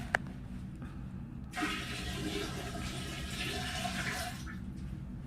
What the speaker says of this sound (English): First, I'm going to empty the graduate into the toilet.